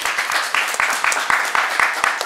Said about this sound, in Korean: 애써주셨는데 박수 한번 칠까요?